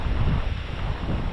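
Steady wind buffets the microphone with low rumbling gusts, loud and continuous, with no voices.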